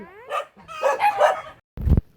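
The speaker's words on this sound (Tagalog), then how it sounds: "Oh, may aso sa likod mo." Dog barking and yipping close by, a few whiny vocal bursts followed by one sharp bark, brief and loud.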